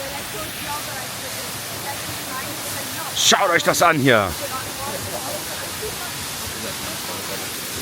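A waterfall rushes beside a cave in Zion, a steady broadband roar filling the whole scene, with someone speaking German briefly over it midway.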